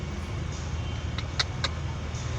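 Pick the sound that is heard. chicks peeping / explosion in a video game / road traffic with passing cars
road traffic with passing cars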